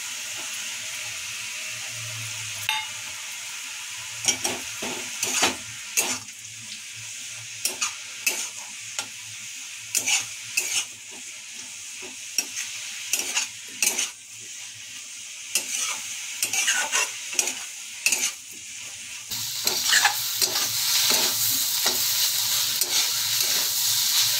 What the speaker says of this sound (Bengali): শাক ভাজাটা প্রায় হয়ে গেছে। এখন এই যে কুটে যে বাদাম, কাঁচা লঙ্কা, রসুন নিয়েছি, এটা দিয়ে দেবো।